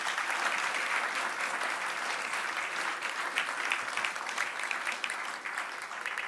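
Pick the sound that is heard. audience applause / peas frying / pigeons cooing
audience applause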